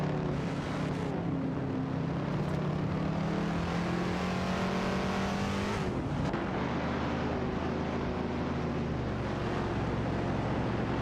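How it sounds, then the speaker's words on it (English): Engines of a Pontiac and an Oldsmobile 442 racing in a video game, steady droning whine that rises in pitch, dips around a shift, then settles into a lower sustained hum, moderately loud with no voices. "Bobardo is handling a Pontiac Bundle 68 while Sarayan Bot is maneuvering an Oldsmobile 442."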